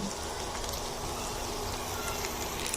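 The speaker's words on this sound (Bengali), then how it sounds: "কাবাবগুলো উল্টে দিয়েছি। এখন আরো কিছুক্ষণ ওই পাশটা ভাজার জন্য অপেক্ষা করব।" Tawa kebabs fry on a flat griddle, giving a steady, even sizzle like light rain that holds at a constant level without pauses.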